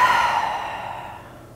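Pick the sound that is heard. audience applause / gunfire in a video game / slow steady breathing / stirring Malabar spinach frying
slow steady breathing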